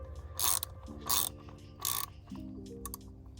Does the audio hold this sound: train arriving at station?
no